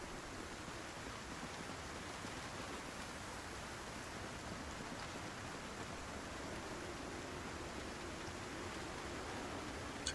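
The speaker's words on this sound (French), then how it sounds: "La pluie commence à tomber très très fort." Heavy rain pours steadily in Project Zomboid, a faint, even wash of hiss with no breaks, and no talking over it.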